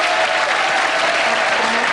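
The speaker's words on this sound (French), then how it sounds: "Alors, applaudissements encore pour René" An audience applauds René Tramoni, the world's fastest talker, with thick, continuous clapping close and loud throughout.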